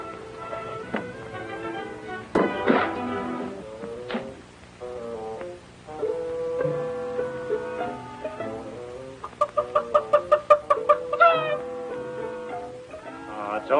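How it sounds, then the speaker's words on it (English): Chickens cluck in a barn on a western ranch, with several short bursts of clucking and squawks over a quiet background and a quick run of rhythmic clucks near the end. "a chicken"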